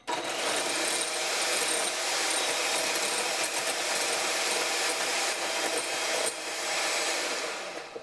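An electric mixer whirs steadily in a bowl, whipping still-liquid aquafaba that has not yet formed peaks; a bright, even buzz runs close and unbroken for several seconds, with a brief dip near the end.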